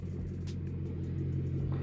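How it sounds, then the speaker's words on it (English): A car idling with its muffler deleted, giving a deep steady low rumble close by, loud and continuous with slight pulsing, no voices present. "Just listen to that idle."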